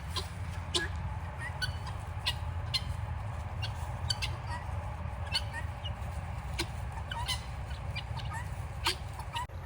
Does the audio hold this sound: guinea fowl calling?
yes